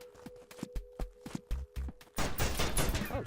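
Uzi submachine gun firing in the video game Juicy Realm, a few separate shots at first, then a dense, loud burst of rapid automatic fire.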